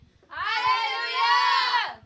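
A group of people in a house shouts loudly together in one sustained, harmonic roar lasting nearly two seconds, rising abruptly and falling off at the end, loud and close.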